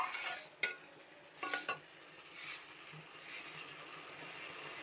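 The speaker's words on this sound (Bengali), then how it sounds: "এই ঝোলটাকে আমি সুন্দর করে নাড়ানাড়ি করব একটু ভালো করে" A spoon stirs a small-hilsa tel jhal curry sauce in a pan. Soft, intermittent scraping strokes and clicks sit over a faint simmering sizzle in a quiet kitchen.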